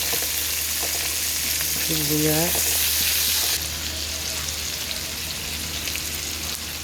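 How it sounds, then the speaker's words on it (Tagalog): Garlic and onion sautéing in oil for chicken asado, a steady close sizzle and crackle throughout, with a brief voiced sound partway through and the frying continuing a little quieter afterward. "Yan, gisa na natin. Sunod, sibuyas."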